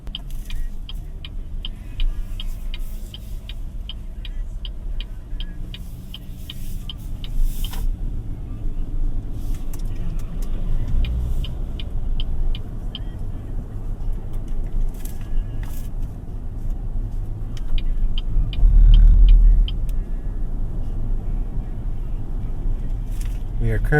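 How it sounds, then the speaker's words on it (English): Inside a 2025 BYD Shark 6 Premium DMO pickup on the move, a steady low road rumble and tyre noise fill the cabin, with faint rattles and a voice speaking over it. "We are currently driving the BYD Shark 6 Premium, which is the top of the line variant."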